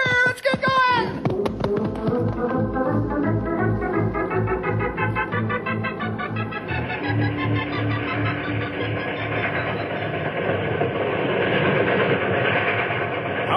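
A steam train winding down a mountain rumbles along the tracks with rhythmic chugging and clatter, a loud steady mechanical roar with hissing, close by.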